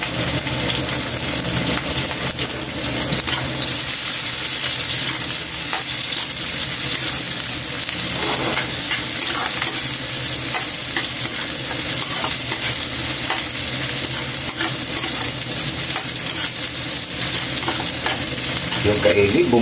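Chopped onions sautéing in a pan for a Filipino mussel and misua soup, giving a steady, loud sizzle with scraping stirs throughout and no talking.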